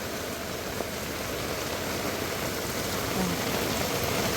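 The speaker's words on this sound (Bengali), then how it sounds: "এই বৃষ্টি ভেজা রাতে" Steady rain falls at night, an even dense hiss that holds unchanged from start to finish, with no clear talking over it.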